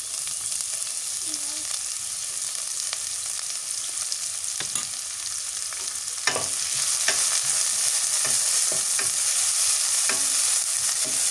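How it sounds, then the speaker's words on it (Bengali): Chopped onion frying in a pan until reddish, a steady sizzle with occasional stirring clinks and scrapes, close and continuous throughout. "এটা একটু লাল লাল করে ভাজা লাগবে"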